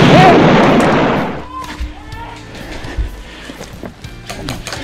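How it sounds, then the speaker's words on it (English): A hand grenade in a shooter video game goes off with a loud, broad blast at the start that fades into quieter distant game noise and scattered small pops. "it's time to break out a hand grenade"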